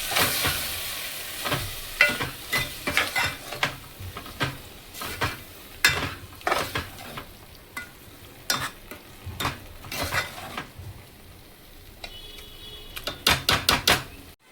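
Chopped taro leaves are sautéed in a pan, with a soft background sizzle broken by repeated sharp scrapes and clatters of a spatula stirring against the metal, irregular and close, with no talking.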